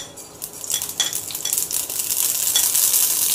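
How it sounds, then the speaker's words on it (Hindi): Mustard seeds hit a hot pan while making upma, setting off a sizzling crackle that swells and grows steadily louder, with a few light clinks of utensils early on. "अब मैं डाल दूंगी इसमें अपनी राई"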